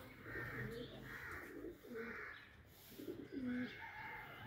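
Soft, repeated cooing from a Sialkoti bloodline pigeon, low throaty calls in a few rhythmic bursts, fairly close and quiet.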